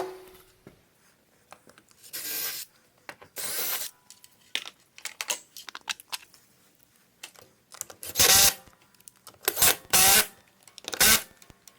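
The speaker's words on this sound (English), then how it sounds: "I'm just going to drill a pilot hole" A power drill boring a pilot hole for a wall-mount garage door opener, in several loud bursts separated by quieter handling and rubbing noises, close up.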